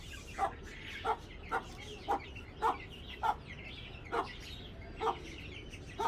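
A silky hen clucks in a backyard coop setup, giving short, sharp clucks about every half-second to second in a steady rhythm, close and clear over a low background hiss.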